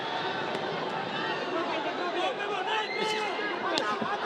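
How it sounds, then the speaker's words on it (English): A boxing crowd on its feet roars continuously, a dense, loud wall of cheering and chatter in a fight arena with a few sharper shouts rising above it. "The crowd on their feet."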